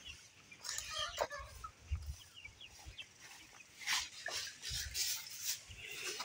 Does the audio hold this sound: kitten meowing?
no